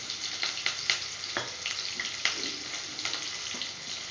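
Curry leaves frying in hot oil in a pan for fish curry, a close crackling sizzle with scattered sharp pops throughout, no voices.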